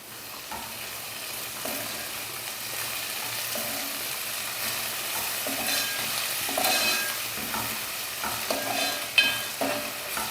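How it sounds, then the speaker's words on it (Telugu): Ginger garlic paste fries with onions in a pan, making a steady soft sizzle broken by repeated scraping stirs, close and moderately quiet, with no voices. "ఈ అల్లం వెల్లుల్లి పేస్ట్ని మనం 1 నిమిషం పాటు ఈ ఉల్లిపాయల్లో ఫ్రై చేసుకుందాం."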